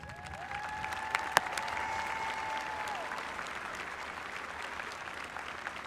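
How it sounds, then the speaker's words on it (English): Audience applause fills a graduation ceremony hall for the class of 2022, steady and sustained, with a brief sharp knock and a fading ringing tone early on. "Please applaud"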